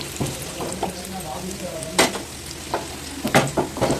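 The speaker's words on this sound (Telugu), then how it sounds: "బాగా వేయించుకోండి ఆయిల్ అయితే ఫుల్గా ఉండాలి" A layered chapati fries in a generous pool of oil, bubbling and sizzling up close while a spatula presses and scrapes it in several sharp, uneven strokes.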